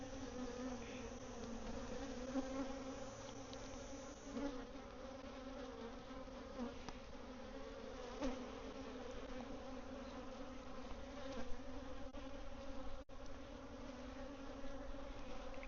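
Honey bees in a bee yard make a steady, dense buzzing hum that carries on without a break, with the odd brief thump and no talking.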